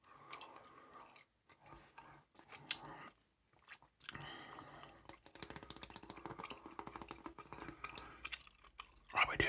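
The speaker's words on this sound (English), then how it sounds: "we're doing some gum chewing" Gum chewing close to the microphone, with soft wet smacks and crunchy bites at an irregular rhythm, interrupted by brief pauses and occasional light tapping in a quiet ASMR setting.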